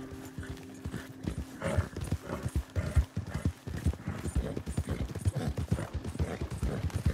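Rhythmic clip-clop of horse hooves trotting along at a steady pace in the video game Red Dead Redemption 2, with faint background ambience and a brief whinny-like tone early on.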